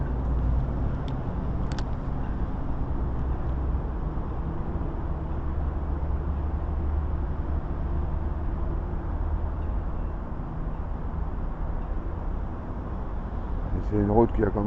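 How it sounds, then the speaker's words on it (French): Steady roar of traffic from a busy road close by, continuous and broadband beside a small pond where someone is fishing, with a brief tap near the end. "Désolé pour le bruit, je suis pas loin de la route."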